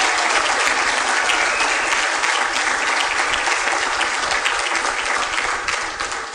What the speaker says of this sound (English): I'd like to just give a round of applause to the Reel family